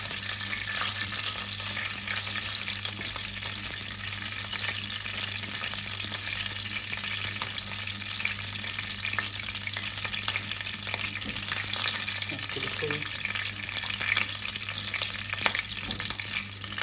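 Cumin seeds sizzle and pop in hot oil as keema rice gets under way, a steady dense frying hiss with scattered crackles running unbroken and close throughout, over a low constant hum.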